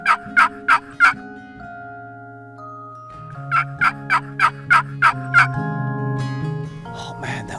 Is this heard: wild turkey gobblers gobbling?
yes